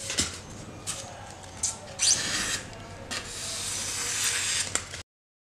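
Sandpaper rubs over a carved styrofoam planter in repeated short scraping strokes, close and fairly soft, with small pauses between passes and no talking.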